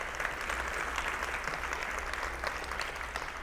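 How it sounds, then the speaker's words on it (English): Another round of applause at a school district's state-of-the-schools breakfast, a roomful of people clapping continuously at moderate volume, with a low hum beneath. "Can we please give another round of applause to our business community"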